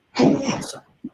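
One loud, close sneeze bursting out sharply and trailing off, followed by a brief short sound a moment later.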